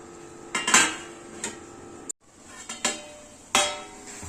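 A metal spoon scrapes and clanks against a pot while cardamom lapsi is stirred. Several sharp, close knocks and rattles come at irregular intervals over a low background.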